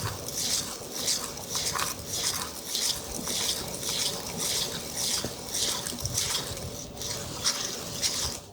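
Rapid rhythmic swishing of a bamboo whisk whipping green tea in a bowl, steady brisk strokes repeated close up.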